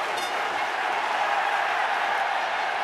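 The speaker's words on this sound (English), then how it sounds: "Just listen to the crowd." Roaring stadium crowd at a Toulon versus Leinster rugby quarter-final, a dense, steady wall of cheering and noise throughout with no breaks.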